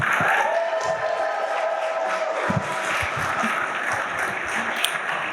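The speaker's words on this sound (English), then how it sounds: "Can you please just give them a round of applause?" Applause from an audience celebrating graduating seniors at a graduation ceremony, a dense wash of clapping with some cheering, fairly loud and steady throughout with faint speech-like murmur beneath.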